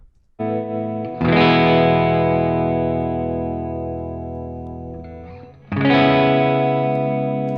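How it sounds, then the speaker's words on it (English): Electric guitar through a Twin Reverb-style amp simulation with twangy reverb and chorus; two long sustained chords, the first struck after a brief pick noise and left to ring before a second strum, close and loud, no talking. "Let's hear this twang reverb. That's like twin reverb."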